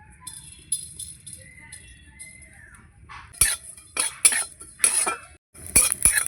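Panch phoron spices being fried in a wok that still holds oil left from frying eggplant, heard as sharp metallic clinks and scrapes of a utensil stirring against the pan in the second half, with soft low voice earlier.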